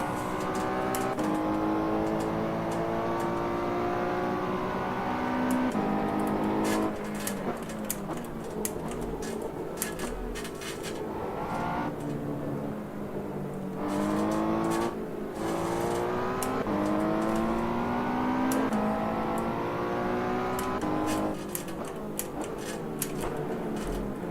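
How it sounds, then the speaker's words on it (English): A Ferrari race car engine in the Ferrari Challenge racing game revs hard and shifts through the gears again and again, loud and continuous, with its pitch climbing repeatedly. "Oh, Robin's racing."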